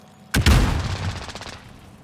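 A single loud, close gunshot or short burst in Call of Duty Modern Warfare Warzone, with a booming low thump and a ringing tail that fades over about a second and a half, with no talk.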